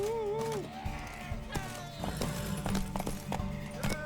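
Hooves clip-clop in an uneven rhythm close by, after a horse's high whinny at the start, with a faint background bed underneath, in the video game The Witcher 3: Wild Hunt.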